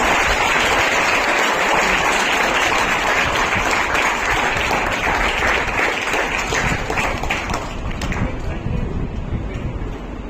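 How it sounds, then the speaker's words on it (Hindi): Sustained, loud audience applause at an award ceremony, a dense wash of clapping from a large crowd that continues steadily and eases slightly near the end. "तालियां नहीं रुकनी चाहिए।"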